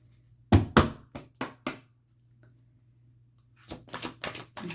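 Crisp bursts of tarot cards being riffled and tapped, a quick cluster of sharp flutters, a pause, then another run of rapid shuffling close by.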